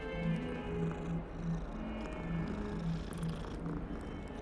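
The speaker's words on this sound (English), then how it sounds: "The cat's still here." A cat purrs in the video game Hogwarts Legacy, a steady, low, rhythmic rumble that rises and falls in slow cycles, fairly close and continuous under faint background ambience.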